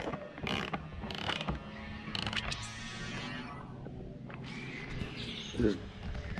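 Socket wrench ratcheting while tightening a grip bolt on a KTM 1290 motorcycle during a heated grip fitting, a run of quick close clicks with handling noise and a brief louder knock near the end.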